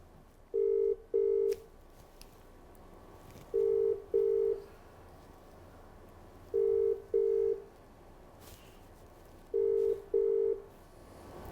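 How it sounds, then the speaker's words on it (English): A telephone ringback tone sounds in four double rings, each pair of low buzzing tones repeating steadily about every three seconds over quiet background hiss. "it's ringing, here we go"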